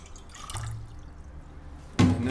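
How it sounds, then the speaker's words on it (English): Water runs from a tap into a cooking pot, quiet and indistinct at first, then a sudden louder rush of filling water near the end. "we fill up the pot with water"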